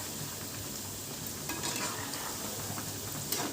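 Cauliflower pieces frying in hot oil for gobi fry, giving a steady, close hiss and crackle with a few brief stir scrapes and no voices.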